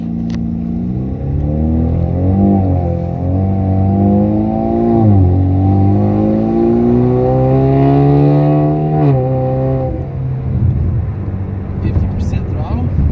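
A turbocharged four-cylinder Camaro running on E85 revs up, its engine tone rising and falling in long sweeps for about thirteen seconds, loud and close from inside the car while people talk over it.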